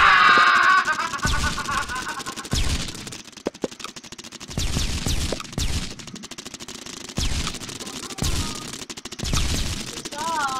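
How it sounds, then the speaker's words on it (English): Bursts of gunfire in the video game Tiny Tanks come in repeated rapid volleys, loud and punchy, with excited talking and shouting between the bursts. "they just keep on walking right into my gun, my gunfire"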